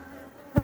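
Honeybees buzz faintly inside a hive box fitted with a homemade bee escape, a low steady hum with one brief louder burst near the end.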